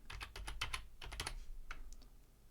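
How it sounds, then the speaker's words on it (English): Fingers tap a password on a computer keyboard during an Arch Linux installation, a quick burst of crisp key clicks followed by a pause and a few slower presses, close and fairly quiet. "New password, you type in the password."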